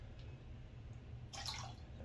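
Excess water is poured off a puck of Phoenix Artisan Accoutrements Irish Springs shaving soap, making a faint, brief trickle and splash against a quiet steady hiss.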